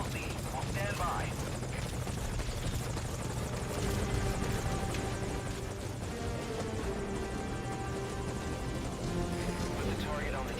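A helicopter arrives at a landing zone in Metal Gear Solid V: Ground Zeroes, its rotor thrum and engine whine steady and close throughout, with voices talking over it.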